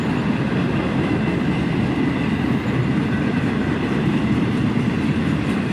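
A CSX train rolls slowly into a siding in July, a steady loud rumble of railcars with rhythmic wheel clatter running throughout.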